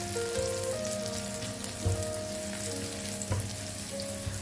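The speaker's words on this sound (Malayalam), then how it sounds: "വെളുത്തുള്ളി ചെറുതായി, അതായത് ലൈറ്റ് ഗോൾഡൻ കളർ ആകുന്നത് വരെ മൂപ്പിച്ചാൽ മതി" Garlic frying in oil in a Kerala-style kitchen, cooking toward light golden, giving a steady close crackling sizzle with small pops and no talking.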